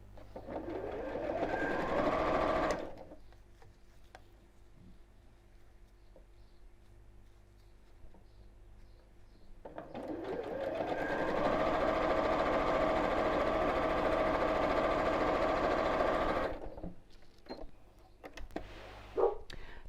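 A sewing machine stitches oven gloves in two long runs, a steady whirring motor with rapid needle rhythm, separated by quiet pauses and ending with faint handling noises.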